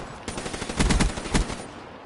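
ICR assault rifle firing in Call of Duty multiplayer: sharp, loud automatic bursts, with a cluster of heavy shots near the middle and another burst shortly after, over steady game background noise.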